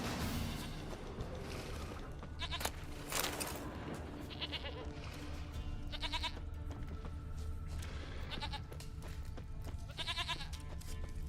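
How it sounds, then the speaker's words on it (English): A goat bleats several times in The Witcher 3, wavering calls spaced a few seconds apart over a low ambient hum and faint thuds, with no talking. "I hear the goat."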